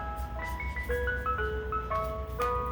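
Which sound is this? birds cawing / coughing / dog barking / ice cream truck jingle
ice cream truck jingle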